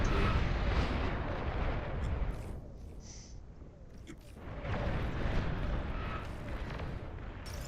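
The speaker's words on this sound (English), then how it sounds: "Long-range plasma cannons are targeting your units." Long-range plasma cannon fire in the real-time strategy game Beyond All Reason, a dense continuous roar of booming blasts and explosions that thins briefly midway and then swells again.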